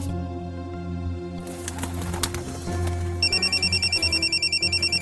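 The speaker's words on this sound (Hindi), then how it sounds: "लो, फिर कॉल आ रही।" A mobile phone rings for an incoming call, its rapid pulsing electronic ringtone starting partway through and repeating steadily over a low background hum, with no one speaking.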